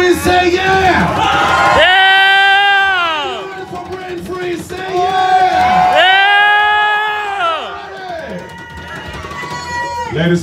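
A live crowd at a brain freeze contest cheers, shouts and whoops in two big swells, with high rising and falling yells between quieter gaps.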